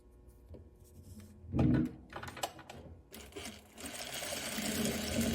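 A sewing machine works a back stitch on a tie top, a short burst of whirring followed by clicks and handling, then a longer steady mechanical hum that builds toward the end.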